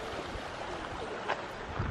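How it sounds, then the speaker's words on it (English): A creek running alongside a pathway gives a faint, continuous trickle and rush of flowing water, with a few soft bumps and no talking. "this is the water, or the creek, that runs right along the pathway."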